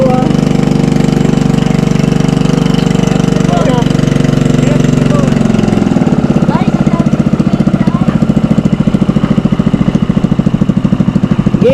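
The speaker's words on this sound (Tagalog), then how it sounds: "Nagagalit na yung makina ni Barbaro, ah." A boat engine runs loudly and close during flooding from a typhoon, a heavy steady drone that shifts midway into a harsher, rapid knocking rhythm, with no talk over it.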